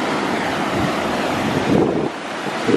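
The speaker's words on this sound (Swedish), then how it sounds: "Alltså havet. Och jag kollar av jättevågor." Big sea waves wash in on the rocky coast of Fårö, Gotland, a loud broadband roar with rolling surges and strong wind buffeting the microphone, no voices.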